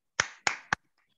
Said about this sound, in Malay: Jadi tepukan untuk Sizuka juga tepuk.